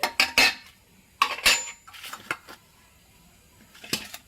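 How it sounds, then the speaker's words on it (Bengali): Fried snakehead fish pieces go into a cooking pot of mango fish curry with a quick series of close metallic clinks and scrapes of a utensil against the pot, then brief pauses and a few more taps. "এরপরে এর মধ্যে আমি মাছগুলো দিয়ে দিচ্ছি"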